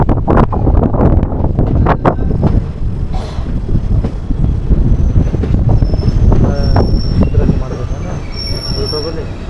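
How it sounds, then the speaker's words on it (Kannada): A passenger train slowing into Edakumeri station, a forest stop near waterfalls and a bridge, rumbles loudly with high metallic wheel squeals and clanks from the cars, heard close and with heavy wind buffeting. "ಎಡಕುಮಾರಿ ಸ್ಟೇಷನಲ್ಲಿ ಎಲ್ಲ ಜನ ಇಳಿತಾವ್ರೆ ಮತ್ತೆ ಟ್ರೈನ್ ನಿಲ್ಸಿದೆ ಅಂತೇಳಿ"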